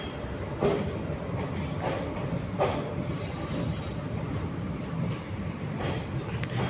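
Fast express train running from Karur to Madurai, a steady loud rumble of wheels with rhythmic clacks over rail joints and a brief high squeal midway, heard from on board.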